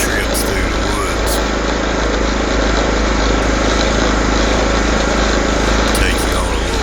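A John Deere LT lawn tractor engine runs loud and steady nearby, its droning rumble continuous with a few brief clicks and knocks over it.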